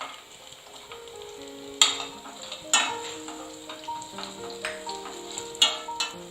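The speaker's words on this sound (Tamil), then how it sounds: "முந்திரி பருப்பு சேர்த்து முந்திரி பருப்பு லைட்டா ஃப்ரை ஆனதும் ஸ்டவ் ஆஃப் பண்ணிடலாம்" Cashew nuts frying in a pan with onions, a steady soft sizzle broken by sharp scraping stirs of a spoon against the metal, several distinct strokes spaced irregularly, close and clear with no voices.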